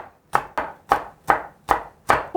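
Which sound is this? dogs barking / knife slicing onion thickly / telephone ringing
knife slicing onion thickly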